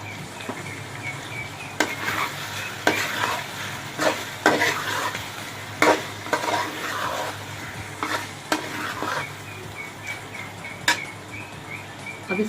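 Bhuna chicken frying in oil with dried coriander and cumin powder, stirred firmly with a spatula: a steady close sizzle broken by repeated sharp scrapes and knocks against the pan, with no talking.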